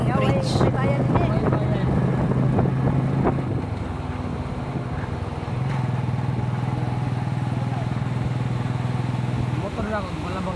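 A motorcycle engine drones steadily close by, a low hum that fades midway and then returns, with people talking over it outdoors near a hanging bridge on the way to a waterfall.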